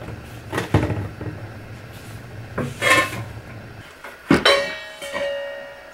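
A grinding stone being lifted out of a kitchen grinder and an atta kneading attachment fitted in its place, heard as a few loud metallic clanks and clatters with quieter shuffling between them, close by.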